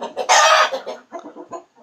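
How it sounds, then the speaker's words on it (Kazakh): Leghorn hens cluck close by in a loud burst followed by a run of shorter, softer clucks and pauses, with no voices over them. "Мына тауық жақсы, лигорн."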